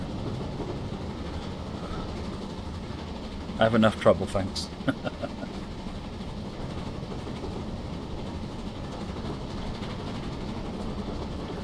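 A train runs in Train Simulator with a steady rolling rumble and a short burst of clattering clicks partway through, while someone speaks over it.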